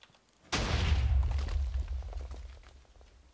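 A loud TNT blast in the Minecraft video game bursts in suddenly with a deep boom, throwing sand into the air, then a long rumbling tail fades over the next few seconds, with no talking.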